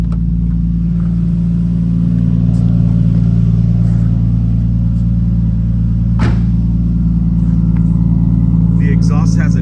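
A 1998 Nissan Skyline R34 25GT-T engine idles with a deep, steady exhaust rumble, holding loud and constant throughout with a brief sharp click partway through.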